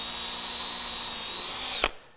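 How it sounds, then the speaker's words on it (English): A power drill bores through wood while making a cam clamp, whining steadily at close range before a sharp burst as the bit breaks through and the motor winds down. "So once you've drilled through from both sides"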